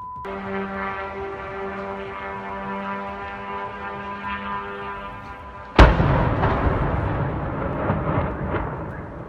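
A Garan-2 kamikaze drone strikes a facility in Chernihiv: a steady droning hum gives way to one sudden loud blast, followed by a long rumbling roar.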